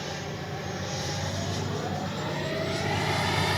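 FMS Avanti S 90mm electric ducted-fan RC jet flying, a steady loud whooshing whine that holds throughout with slight swells as it passes.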